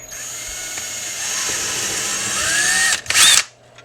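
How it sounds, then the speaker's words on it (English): A high-pitched power drill whirs steadily for a few seconds drilling holes in aluminum body panels for an RC car, pitch dipping under load, then a brief louder burst before it stops. "go ahead and drill the holes"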